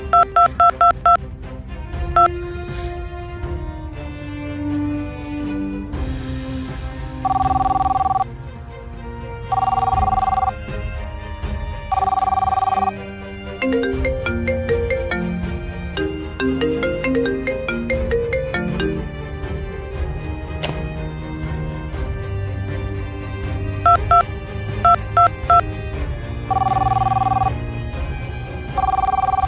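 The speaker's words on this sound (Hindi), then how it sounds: "क्यों फोन कर रही है यार?" A mobile phone rings with an incoming call, its electronic ringtone repeating in short regular bursts throughout. The bursts come over a steady background music bed, with melodic tones in between.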